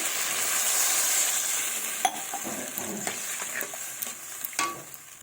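Tangra fish masala sizzling in a pan, a steady frying hiss with stirring scrapes and a sharp hit as water goes in, the sizzle settling into a softer bubbling, close and alone.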